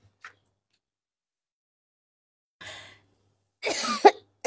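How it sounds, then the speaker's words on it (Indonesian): A woman coughs in a few short, sharp bursts close to the microphone, with a brief faint sound at the start and silence between the coughs. "Nyai ripuh batuk wae"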